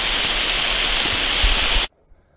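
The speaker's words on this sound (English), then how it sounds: "It started pouring down the rain." Heavy rain pours down outdoors in a steady, dense roar that stays loud, then cuts off abruptly near the end, leaving near silence.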